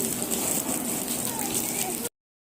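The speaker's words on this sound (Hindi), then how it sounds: "ये देखिए झमाझम वाली बारिश हो रही है" Heavy monsoon rain pouring outdoors during a picnic, a dense, steady hiss of drops on surfaces with faint trickling, nearby and continuous until it cuts off abruptly.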